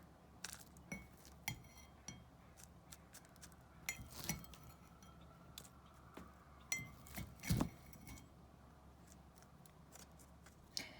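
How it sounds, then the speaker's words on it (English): Spoon scooping seedling soil mix into a small container, giving a quiet series of soft scrapes and light clinks spread at irregular intervals, with one sharper knock near the middle. "We are going to fill the container with the soil."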